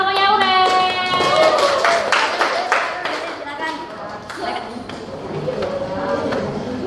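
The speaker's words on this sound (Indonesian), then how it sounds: "Yuk, tepuk tangan buat kelompoknya Aurel." Classroom applause for a presenting student group, a burst of clapping from many hands that fades into mixed chatter and voices of pupils and a teacher.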